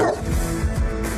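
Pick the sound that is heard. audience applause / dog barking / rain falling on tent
dog barking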